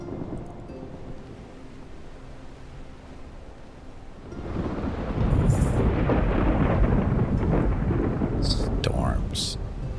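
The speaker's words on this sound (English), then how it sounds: "Oh, look, it's a storm we get to sail through." Thunderstorm at sea while sailing a ship in Mount and Blade II: Bannerlord: steady rain and surf roar swell into heavier rolling rumble midway, with a few sharp crackles near the end, no talking.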